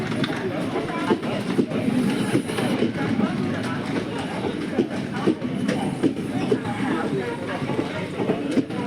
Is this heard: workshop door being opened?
no